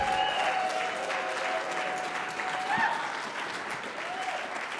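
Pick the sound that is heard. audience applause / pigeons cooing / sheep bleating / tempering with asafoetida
audience applause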